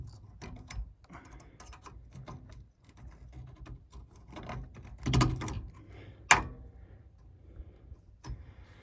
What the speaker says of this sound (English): we're gonna ream the pipe